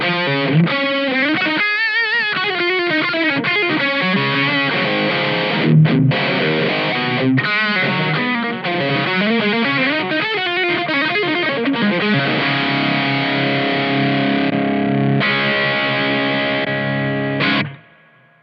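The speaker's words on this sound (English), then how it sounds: "I have a governor distortion here." An electric guitar plays through a Guv'nor-style distortion into a Boss Katana MKII amp, giving sustained, gritty chords and riffs that ring continuously before cutting off abruptly at the end.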